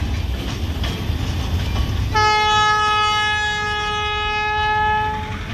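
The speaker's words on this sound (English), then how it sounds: "and man, this train is moving" Fast freight train hauling log cars rolls past at close range with a rumbling roar, then a loud, sustained multi-tone horn blast holds for about three seconds before fading. No one speaks.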